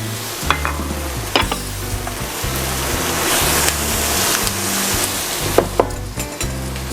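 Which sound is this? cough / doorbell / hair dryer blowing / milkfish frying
milkfish frying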